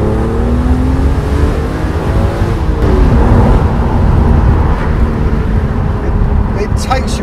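A BMW Z4 engine revs and roars continuously at close range, rising and falling in pitch as the car accelerates, with a voice talking over it and a brief higher whine near the end.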